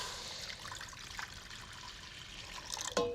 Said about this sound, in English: you're going to add in your water